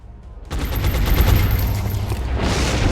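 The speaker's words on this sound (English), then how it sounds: "Gunner is also going to shoot this thing." Gunner unit opening fire in XCOM Enemy Within, a sustained burst of loud rapid gunfire and booms that starts abruptly after a quiet moment and continues steadily, with no talk over it.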